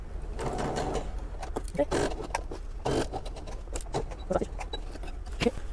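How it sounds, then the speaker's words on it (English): A sewing machine stitches the shoulder seam of a waterfall jacket at a half-inch seam allowance, with a steady mechanical whirr broken by short pauses and bursts, close by while someone talks over it. "I'll sew this one up, sew the other one"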